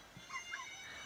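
A dog whimpers in The Sims 4, a few faint, short, high whines in quick succession against quiet game background.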